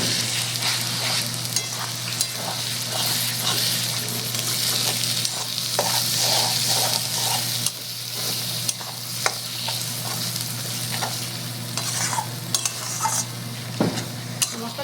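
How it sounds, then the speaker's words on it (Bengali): Masala for mutton curry sautéing with a little water, a loud, dense, steady sizzle with intermittent stirring scrapes and a faint low hum beneath. "এবার সামান্য জল দিয়ে মশলাটা আমি কষে নেব।"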